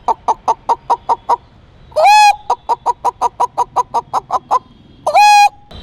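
A man imitates a hen with his voice. A run of short, rhythmic clucks is broken twice by a louder, drawn-out squawk. It is close and clear, with no other talk.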